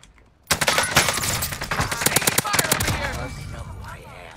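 Rapid automatic gunfire from a video game shooter rattles out in dense, loud bursts of sharp cracks, then trails off into softer scattered shots.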